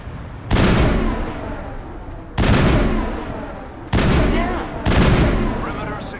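Assault rifle gunfire in Mass Effect, coming as four loud, broadband bursts, each a sharp onset with a decaying rumbling tail, spaced about one to two seconds apart, with battle ambience between them.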